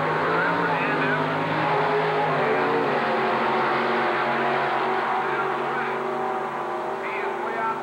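Drag race cars roaring down the strip at a 1990 Texas Motorplex division final, a '66 Chevy Deuce against Super D, engines loud and sustained with crowd noise and an announcer talking over them.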